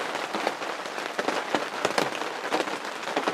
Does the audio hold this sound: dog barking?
no